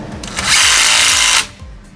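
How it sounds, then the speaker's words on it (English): A power tool on 13mm nuts of a VW Super Beetle's rear transmission mount whirs loud and close in one short burst of under a second, then stops, with no talk. "This impactor will destroy them."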